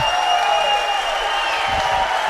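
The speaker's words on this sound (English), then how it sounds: "This crowd's going to go crazy." Applause and cheers from a crowd at a racquetball doubles final fill the space, a continuous clapping wash at moderate distance with a steady high-pitched tone running underneath.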